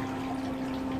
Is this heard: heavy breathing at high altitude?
no